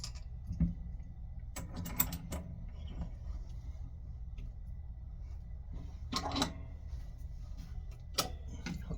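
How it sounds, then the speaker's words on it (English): An empty firearm is clamped into a bench vise, quiet metallic clicks, ratcheting turns and knocks in a few short bursts separated by near silence. "I'm going to take the empty firearm and I'm going to secure it onto my vise."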